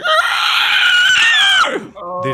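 A human voice imitates a monster's horrific screech, giving one loud, close, sustained shriek that breaks off abruptly after about a second and a half, followed by a brief lower voiced tail.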